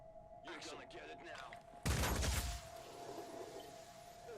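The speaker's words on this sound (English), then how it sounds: "Just keep shooting at the tank." A loud burst of gunfire aimed at a tank in the Phoenix Point video game, a dense crackling volley lasting under a second after a stretch of quieter game sounds, then a steady hum with faint background noise.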